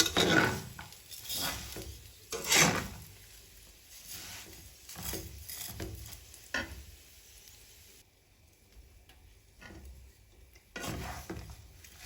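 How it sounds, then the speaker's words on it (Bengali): Vermicelli (semai) frying and being stirred in ghee in a home kitchen pan, with repeated scraping and clinking strokes of a utensil against the pot over a soft sizzle, close and moderately loud, no talking. "সেমাইটা ঘিয়ের সাথে 2-3 মিনিট খুব ভালো করে ভেজে নিয়েছি আমি।"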